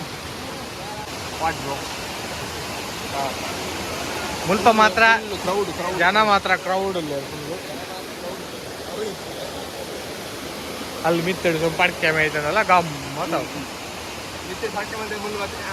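A waterfall at a hidden falls in Udupi gives a steady, broadband rushing roar throughout, with several people talking over it in bursts.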